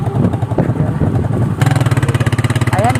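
A motorcycle engine runs close by, settling into a steady, rapid pulsing throb after a noisier start with some rumbling in the background.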